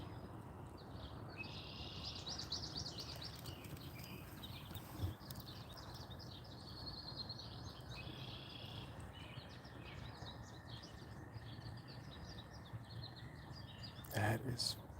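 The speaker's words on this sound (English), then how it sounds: "That's a bird call I'm trying to identify" A wild bird calls repeatedly in bursts through an outdoor livestream near green heron habitat, moderately clear over a steady background hum of insects and ambience, with short gaps between phrases.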